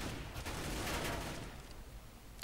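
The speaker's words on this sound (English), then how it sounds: "See if it's you shooting through the vent again." Gunfire heard through a vent in the tactical shooter CS:GO, a muffled rattling burst of shots that fades away, followed by a faint click.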